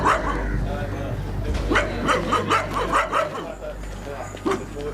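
A dog barks and yips repeatedly nearby in a village, mixed with whimpering, while people talk over it outdoors.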